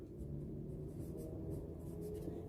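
A marker or pen scratches and squeaks faintly across a board while a diagram is drawn, the strokes soft and continuous over a low room rumble.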